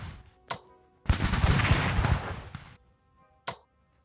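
Gunfire in the Strategic Command war strategy game's Cuban War for Independence scenario: a single shot, then a sustained rattling volley lasting almost two seconds, then a final lone shot, all clear against quiet.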